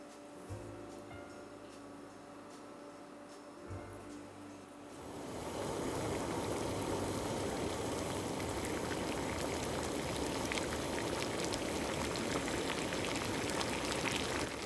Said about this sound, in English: I've got 2 blocks of ramen noodles here in some boiling water.